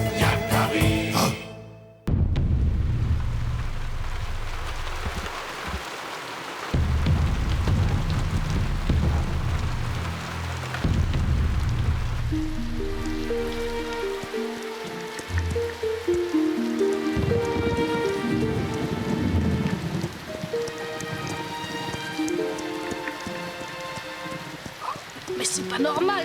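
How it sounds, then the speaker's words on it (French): Steady heavy rain patters and hisses throughout, with low rumbles and soft music rising beneath it toward the end. "Est-ce que cette pluie va enfin s'arrêter? Elle tombe depuis des jours et des jours."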